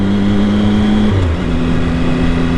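Triumph Speed Triple motorcycle engine humming steadily while riding, with a slight pitch shift partway as the revs change; loud, continuous and close, mixed with wind noise and no speech.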